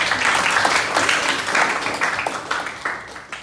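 A class of students claps during an informatics micro-teaching lesson on office applications, with a lively burst of mixed hand claps that gradually thins and fades out.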